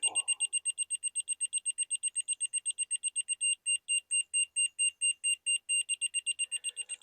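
Rapid, evenly spaced high-pitched electronic beeps from a laser level receiver used in deck building repeat continuously, briefly slowing in the middle before speeding up again; close and clear with no speech.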